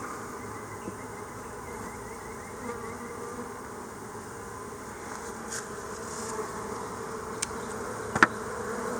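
Honey bees buzz steadily in an opened hive, a continuous close hum with a few brief sharper clicks near the end.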